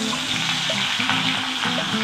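Fish sizzles steadily as it fries in hot mustard oil in a wok, a dense continuous crackle that stays close and fairly loud throughout, with no talking.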